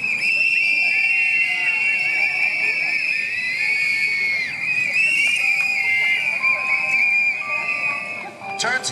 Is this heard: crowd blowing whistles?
yes